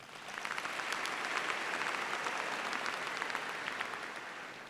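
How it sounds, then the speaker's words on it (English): A University of Pretoria welcome day audience gives a round of applause, steady, even clapping from a large crowd that sounds somewhat distant and fairly soft, with no talking over it. "I think that deserves a round of applause"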